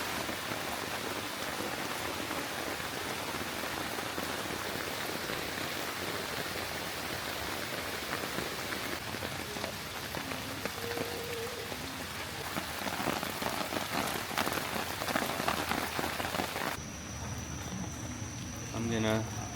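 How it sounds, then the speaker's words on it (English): Steady rain patters on a car throughout at an overnight campsite, a dense even hiss with occasional faint background sounds toward the end. "listen to the rain."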